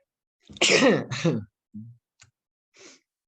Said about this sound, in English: sneezing here.